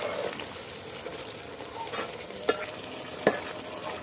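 Beef liver cooks in frying spice paste in a village-style bhuna, a soft continuous sizzle with scraping stirs and two sharp clinks of the utensil against the pan near the end.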